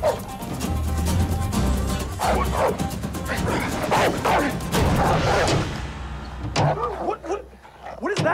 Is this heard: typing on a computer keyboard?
no